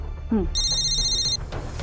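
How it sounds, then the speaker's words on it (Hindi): A telephone rings with one bright electronic trill, clear and close, with a short voice sound just before it. "सर, कांस्टेबल गीता का फोन था।"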